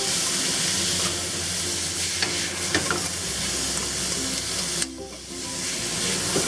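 Beef and bitter melon stir-fry in a hot wok with seasoning salt, sesame oil and Shaoxing wine, a loud continuous sizzle and hiss broken by scraping stirs and a brief dip before the frying surges again.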